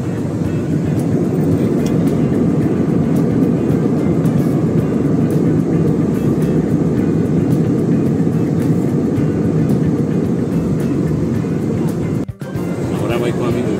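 Airplane cabin noise in flight: a dense, even roar that holds without a break, with one brief dip near the end.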